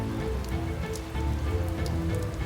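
Cartoon sound effect of a hailstorm pelting a house and cornfield, a dense steady patter of many small impacts with scattered sharper hits, moderately loud and without speech.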